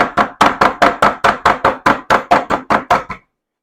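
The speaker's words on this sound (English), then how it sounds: "you want to use the flat side, and you just want to sort of beat it down" Flat side of a meat mallet pounding chicken fried steak: about thirteen loud, evenly spaced thuds in quick rhythm, then silence.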